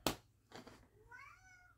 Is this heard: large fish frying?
no